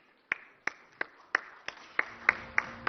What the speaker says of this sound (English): a huge round of applause for Pandu Nayak